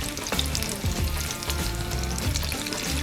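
Potato curls frying in hot oil while being gently stirred, a continuous loud sizzle with bubbling crackle and occasional soft scraping pulses from the stirring, no talk.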